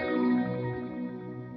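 An electric guitar chord rings out through a BOSS TE-2 Tera Echo delay pedal, with echoing repeats, a filter sweep and arpeggiated pitch shifting changing the tone as it sustains.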